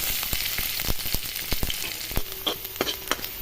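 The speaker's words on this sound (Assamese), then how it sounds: "তেলখিনি গৰম হোৱাৰ লগে লগে ইয়াত মই পিঁয়াজ দি দিলোঁ।" Chopped onion frying in hot oil in a pan for lentil dal, a steady close sizzle with frequent sharp crackles and pops and a few brief scraping stirs, with no voices.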